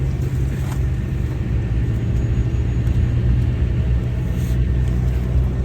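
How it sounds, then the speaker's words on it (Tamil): Busy road traffic near a wooded stretch makes a continuous loud low rumble of passing vehicles, steady throughout with no talking. "ஆக்சுவலி வந்து இங்கே டிராஃபிக் கொஞ்சமாக கூட்டமாக இருக்குது பாருங்கள்."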